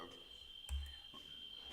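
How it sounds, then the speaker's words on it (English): Cicadas outside a window make a steady, faint, high-pitched drone in the background, with a few soft indoor thumps and clicks nearby. "No, those are not birds. Those are cicadas."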